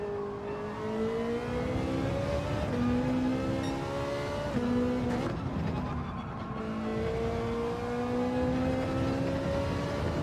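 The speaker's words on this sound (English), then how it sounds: "just let the Ferrari run out," A Ferrari in a racing video game revs out through the gears, its engine whine climbing in pitch, dropping at each shift and climbing again over about ten seconds, loud and close with no talk.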